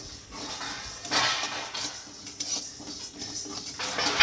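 Urad dal dry-frying in a pan, with light rattling and scraping of a spoon stirring the lentils against the metal, a faint sizzle beneath, close and moderately quiet.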